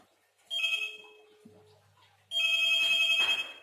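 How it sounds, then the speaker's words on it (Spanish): A home landline telephone rings in two bursts of electronic trilling, separated by a short pause with a faint low hum in between; the rings are fairly loud and close, with no talking. "vamos a llamar al teléfono fijo de casa"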